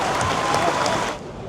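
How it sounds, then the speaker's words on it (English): A car auction crowd at Barrett-Jackson in Scottsdale, Arizona, claps for a custom C10 pickup, a brief dense burst of applause that quickly tapers off. "A big round of applause for that C10."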